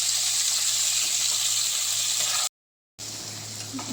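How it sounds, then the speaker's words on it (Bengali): Strips of ginger and vegetables fry in a pan with a steady, dense sizzling hiss, close by. The sound cuts out for a moment, then the frying resumes. "দিয়ে এটাকে লাইট ব্রাউন করে ভেজে নেব"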